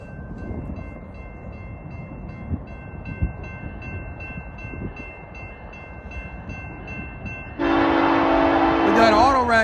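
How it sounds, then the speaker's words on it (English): An eastbound BNSF freight train hauling auto racks with SD70ACe locomotives in Chillicothe, Illinois rumbles in with a low steady roar, then sounds a loud sustained multi-tone horn close by near the end. "We got an eastbound on its way coming."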